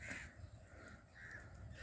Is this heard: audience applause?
no